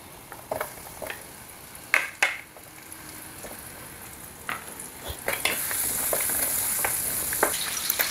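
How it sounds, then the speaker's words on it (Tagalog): Onions sauté in a frying pan for a pompano fish dish, giving a steady sizzle that grows brighter and louder toward the end. Occasional scrapes and stirring knocks of a utensil against the pan break through the frying. "So gisa na natin yung ating sibuyas."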